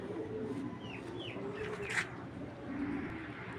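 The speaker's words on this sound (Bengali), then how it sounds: "মাদি কবুতরটা" A female racing pigeon gives soft, low coos against a steady background hiss, with a few brief higher chirps from other birds mixed in.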